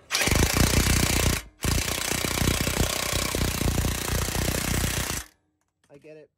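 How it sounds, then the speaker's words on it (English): An impact wrench hammers a bolt tight on a Toyota KDSS truck's bolt-on panhard correction kit, two loud sustained rattling bursts split by a short pause, then a brief quiet tail. "I'll use like an impact."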